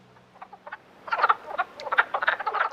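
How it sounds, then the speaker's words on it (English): Wood frogs calling along a highway in Tennessee, a dense chorus of rapid, clucking croaks that starts sparse and grows louder and busier, heard close with no talking. "you're hearing frogs calling along Alcoa Highway"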